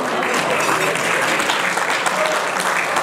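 Sustained crowd applause at a padel Grand Prix awards ceremony, a thick, even wash of many hands clapping at close range for the whole stretch.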